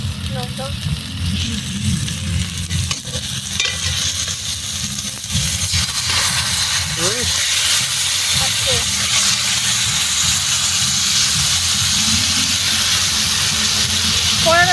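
Meat drops into hot oil in an outdoor picnic pot, giving a steady loud sizzling hiss that builds and holds, with people talking over it.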